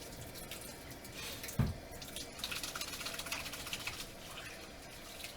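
Mixer beaters are rinsed under a running kitchen tap, a soft, continuous wash of water with a brief splash or clunk early on, fairly quiet and close.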